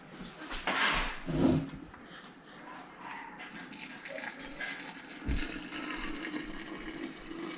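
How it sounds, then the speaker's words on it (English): Boiling water poured from a vessel into a half-gallon glass jar filled with violet flowers, a soft gushing splash in bursts at the start, then quieter trickling, fairly faint and close. "now I'm going to put 4 cups of boiling water into this half-gallon jar with the flowers"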